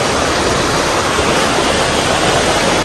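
A river flows beside a valley trail in Vrata Valley, Slovenia, near a waterfall, giving a loud, steady, unbroken rush of water that fills the whole clip with no voices.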